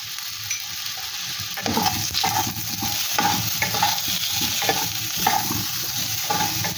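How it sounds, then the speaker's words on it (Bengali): Potatoes sizzle steadily on low heat in a pan while a utensil stirs and scrapes in a loose, repeated rhythm, close up and without talk. "এগুলোকে আমি হালকা আঁচে গোল্ডেন ব্রাউন করে ভেজে নেব"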